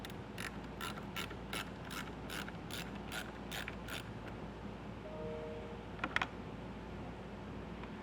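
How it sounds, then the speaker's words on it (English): Ratchet with a 10mm socket loosening the bolt on a battery positive post collar of a 2024 GMC Sierra 1500, about ten quick evenly spaced clicks, then a short pause and a couple of small metallic taps. "get a 10mm socket and get this bolt loosened up so I can take this collar off of our positive post"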